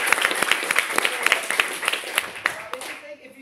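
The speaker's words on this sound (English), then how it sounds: "Can I have it by applause?" Audience at a tech meetup claps in a loose, moderate round of applause, individual claps distinct and close, tapering off after a few seconds.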